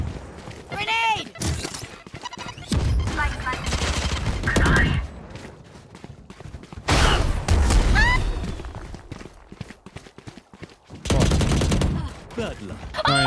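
Gunfire and a grenade blast in a competitive team shooter match, with bursts of shots and booming impacts at intervals amid players' voice chat and in-game callouts.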